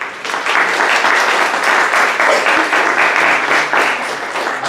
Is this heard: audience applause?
yes